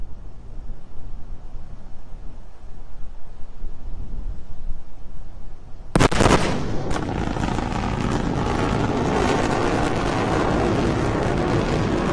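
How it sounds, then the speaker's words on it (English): A rocket launch roars in with a sudden loud sonic boom crack partway through, after a low rumbling wind-buffeted stretch, then a sustained broadband thunderous rumble that keeps going to the end. "when this woman says sonic boom, this is what we're talking about here"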